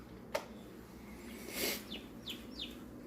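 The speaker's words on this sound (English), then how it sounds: "You can hear just a chirping" Faint, high-pitched chirps from a newly hatched chick inside an incubator, a few short calls spaced out over a quiet background with a soft tap near the start.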